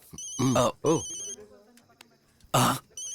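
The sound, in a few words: telephone ringing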